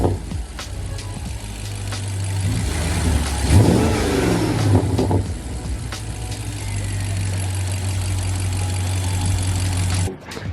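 A BMW 650i Gran Coupe V8 fitted with front-mount intakes revs up with a loud, close, steady drone, swelling into a brief burst of throttle partway through before settling back to a strong idle-like hum.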